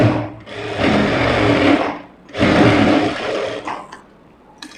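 An electric sewing machine stitches a blouse in two long, loud whirring runs separated by a brief stop, then slows into a shorter, fading burst.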